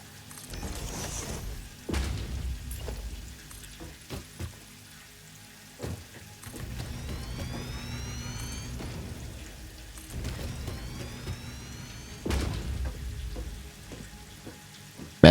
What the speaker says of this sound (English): they really implemented the rain effects so well in this game